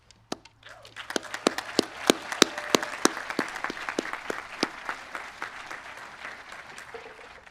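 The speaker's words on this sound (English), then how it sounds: "it is really good to hear the UHS community clapping together once again" Audience at a high school graduation ceremony claps, starting with a few sharp individual claps that quickly swell into steady, dense applause from a sizeable crowd, then gradually thin toward the end.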